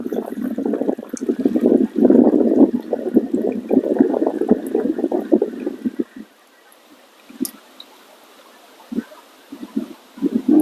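Wash water tipped out of a tub of soaking fleece wool makes a loud, continuous splashing pour for about six seconds, then a few short, quieter splashes and trickles follow.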